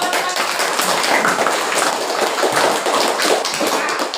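Students in a classroom clap together in a dense, loud burst of close, overlapping hand claps that holds steady throughout.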